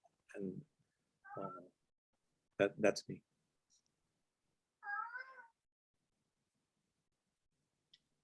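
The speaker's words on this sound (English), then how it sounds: "I think I have to go back on mute because my cat is complaining." A pet cat complains with several distinct meows in separate bursts across an otherwise quiet room, fairly close and clear, and a person says a few brief words between them.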